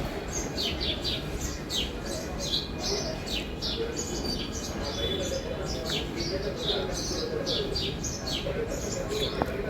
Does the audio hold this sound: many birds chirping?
yes